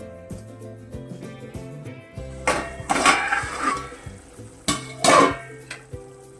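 Malvani masala paste for a prawn masala cooks in a pan while a metal spoon scrapes and clinks against it in irregular bursts, loud and close, with no talk.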